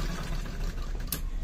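Sewing machine running steadily while finishing the side seam of a two-piece katori blouse, a continuous low motor hum with fine rapid needle texture, close and alone.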